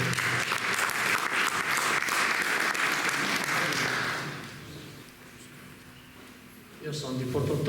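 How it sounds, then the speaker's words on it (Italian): Audience applause at an evening poetry event honoring late poets from Ossi, Sardinia, loud and dense for about four seconds, then fading to a quieter room before a voice starts speaking near the end. "Un applauso a Pinuccio."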